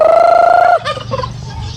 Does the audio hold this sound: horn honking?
no